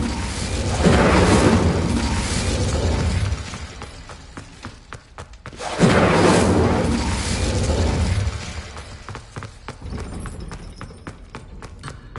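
Incendio fire spell in Hogwarts Legacy: two loud, roaring whooshes of flame, each lasting a few seconds, followed by scattered crackles and clicks.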